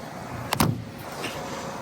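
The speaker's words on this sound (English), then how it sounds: "Let me get the hood popped." Hood release on a truck with a rebuilt 360 engine and 4-speed, a quick double clunk of the latch popping open, close and fairly loud against quiet background noise.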